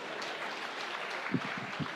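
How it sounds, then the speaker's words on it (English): Conference audience at the India Today conclave gives a round of applause, a faint, distant wash of many hands clapping that holds steady, with a few closer claps standing out near the end. "I want to have a round of applause for that, please"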